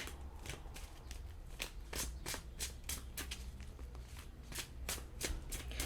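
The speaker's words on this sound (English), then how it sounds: "I'll pull 5 cards for you guys for the month of June for your career and finances" Tarot cards shuffled by hand, a close, quiet run of crisp riffling bursts repeating at a steady pace, with no talk.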